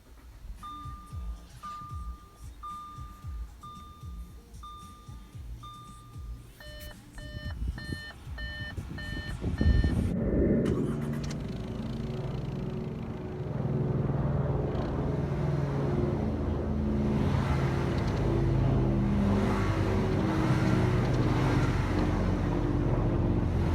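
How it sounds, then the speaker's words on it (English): A 2017 Audi Q5 2.0T fires up via push-button start. A steady chime tone comes first, then the engine catches with a sharp burst and settles into a smooth, even idle that fills the rest. "To start the engine, push your foot down the brake and press the start button located right here."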